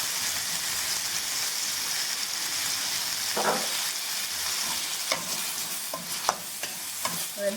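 Onions and tomatoes fry in a pan for a kodo millet sambar rice, with a steady close sizzle and occasional sharp scrapes and taps as a spoon stirs them.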